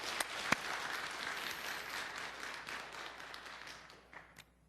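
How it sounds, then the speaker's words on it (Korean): A Korean church congregation claps at a 28th-anniversary service, a soft, somewhat distant patter of many hands that thins and fades toward the end. "하나님 앞에 우리 한번 박수로 한번 영광을 돌렸으면 좋겠습니다"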